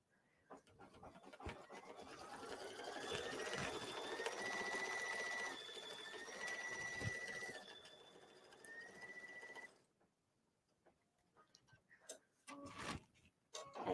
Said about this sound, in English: And it's stitching out the letters.